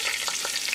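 Onion hitting a hot pan of olive oil and cumin seeds, a loud, close, continuous hiss of frying under brief stirring sounds, with no voices.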